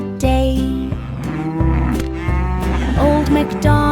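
A cartoon farm cow moos loudly over a bright nursery-rhyme musical backing, the lowing mixed in with steady instrumental music throughout.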